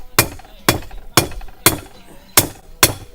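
A blacksmith hammers a knife tail on an anvil to taper it, six sharp ringing blows landing at a steady, unhurried pace, close and loud with short decays between strikes.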